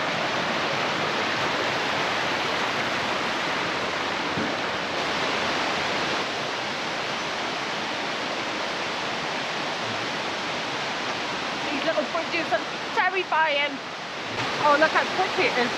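Steady broadband roar of the waterfall at the Cascades in Morocco, loud and continuous throughout, with a few brief voices and clinks breaking in near the end.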